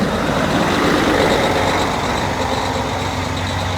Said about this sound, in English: His truck is loud.